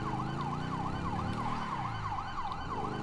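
A Chilean ambulance siren from a video game server mod wails in a fast, regular up-and-down sweep, loud and close over a low engine rumble, with no talk.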